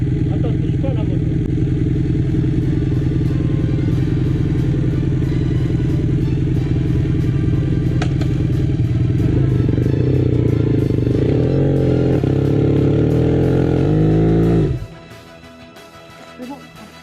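A motorcycle on a road trip in Morocco runs loud and close, a rough steady idle that rises in pitch before abruptly shutting off, leaving quiet surroundings.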